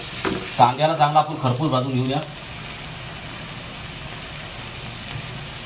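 Onions browning in a pan for an egg dal fry: a steady, even sizzle that runs alone after a voice talks over it at the start.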